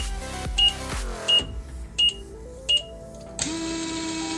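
Buzzer on an Arduino smart helmet vehicle lock gives four short sharp beeps at even intervals, close and clear over a low background hum, with no voices.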